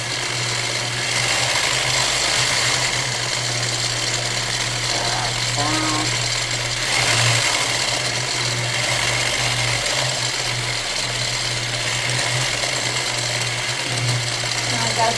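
A sewing machine runs steadily while quilting a feather fill pattern, its continuous mechanical hum and rapid stitching rhythm holding a fairly loud, even level throughout with no speech.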